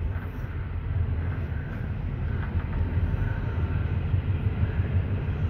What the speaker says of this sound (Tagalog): nandito na tayo sa tren